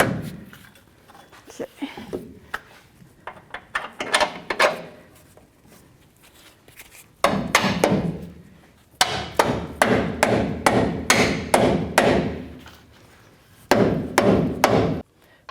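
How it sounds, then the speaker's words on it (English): Rubber mallet blows on the lower control arm of a 1997-2004 Dodge Dakota, loud sharp whacks coming in quick repeated bursts, sparse at first and then dense steady runs, with a brief spoken word near the start. "Don't be afraid to use a rubber mallet."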